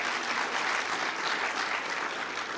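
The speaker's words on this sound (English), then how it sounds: "give them a round of applause" Forum audience applause at a global supply chain conference, a steady wash of many hands clapping together, moderately loud and continuous for the whole stretch.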